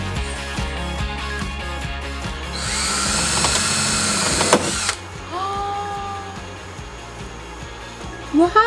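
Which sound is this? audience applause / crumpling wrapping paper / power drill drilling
power drill drilling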